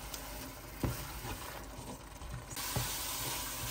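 Meatballs go into a frying sauce of turmeric and tomato paste in oil, giving a steady, close sizzle and hiss with a couple of soft thuds as they drop in.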